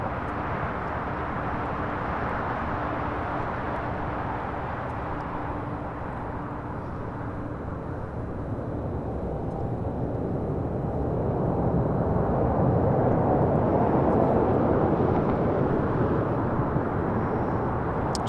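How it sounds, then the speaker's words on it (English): A China Airlines Cargo plane arriving at LAX from Taipei makes a broad, steady jet roar that swells gradually toward the end, heard from a distance. "This is China Airlines Cargo 5382 coming in from Taipei."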